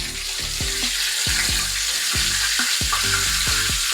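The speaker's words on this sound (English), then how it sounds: "we got that grease ready to go. Nice and hot. And we're gonna lay those gizzards down off in there." Chicken gizzards frying in hot grease make a loud, continuous crackling sizzle, with repeated low bubbling pops running underneath.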